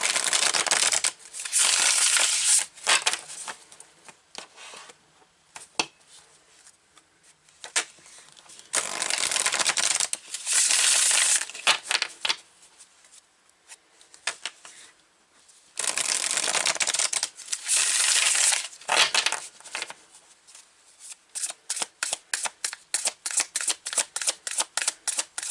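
A deck of tarot cards being shuffled by hand in repeated riffling bursts, crisp and close, ending in a quick run of rapid flicks.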